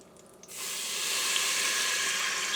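Chicken broth, half a cup, poured into an Instant Pot: a steady close splashing hiss of liquid that starts abruptly after a brief quiet moment and continues loud and even to the end.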